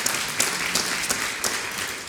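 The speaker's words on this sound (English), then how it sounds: "Please join me in giving a big round of applause to Bill Flanagan" An audience at a Pittsburgh lecture-series forum applauds steadily for the moderator, a dense, even wash of clapping that fills the room from start to finish without any voices.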